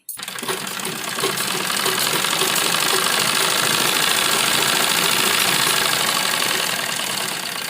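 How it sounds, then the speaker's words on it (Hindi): An electric sewing machine runs continuously, stitching a seam along a kurti up to the hip mark, with a steady, close, loud whirring hum and rapid needle rhythm and no talking. "और जो हिप का निशान हमने लगाया था उसी तक हमें ये सिलाई लगानी है।"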